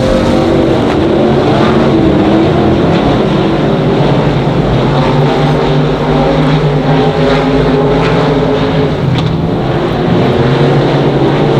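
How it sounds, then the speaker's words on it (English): Race cars roar continuously at Monarch Motor Speedway, several running three wide down the back straightaway, a loud, sustained engine drone with no pauses. "We went 3 wide down the back straightaway with Aaron Alley, Jonathan Powers, and Kobe"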